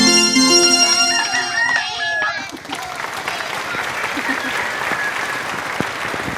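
Applause from a group breaks out after a riddle game, a burst of clapping that follows a brief chiming sound and then settles into steady, moderately loud clapping with voices mixed in.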